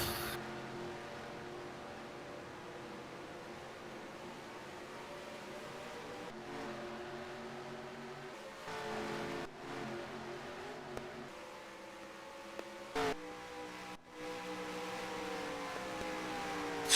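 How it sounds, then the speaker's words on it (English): Race cars at DYNO Racing in Las Vegas drive out onto the track, their engines a steady, fairly distant droning hum with a few brief interruptions. "we have cars coming out onto the track"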